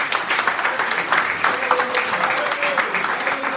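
A church congregation bursts into steady, dense applause, many hands clapping together close up for several seconds, with voices and a faint cheer mixed into the crowd.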